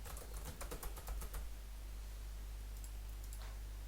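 Comments typed on a computer keyboard: a quick burst of close, faint key clicks over about a second and a half, then steady low hum with a few scattered taps.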